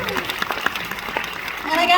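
Audience applause at a career conference speech, a brief burst of dense clapping mixed with crowd noise and a few voices, swelling slightly toward the end.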